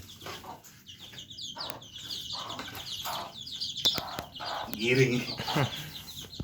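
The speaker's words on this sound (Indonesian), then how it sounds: "Ya, ada ayam yang digiring." Young chickens cluck and squawk close by in the morning, with rustling movement and a wing flap or two as the birds are herded along.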